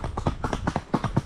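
A horse walking, with quick rhythmic hoof clip-clops on hard ground, close and moderately loud over about a second.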